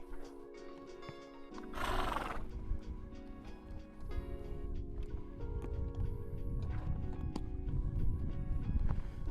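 Horses whinny and shuffle nearby, with a loud neigh early on and hooves clopping and thudding over steady background noise.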